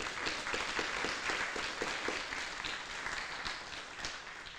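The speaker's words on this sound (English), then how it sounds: "give this staff a huge round of applause" Applause for the staff at a scholarship ceremony, a soft, steady wash of clapping from a crowd that holds for several seconds with a few sharper claps near the start.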